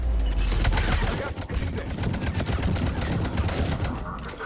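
Rapid bursts of gunfire crackle at a Cerberus checkpoint in Mass Effect 3, dense overlapping shots that fill the whole stretch and fade slightly near the end.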